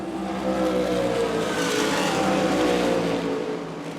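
A race car engine roars at a race track, a loud, steady, close drone with shifting engine tones that holds for the whole stretch and eases slightly at the end.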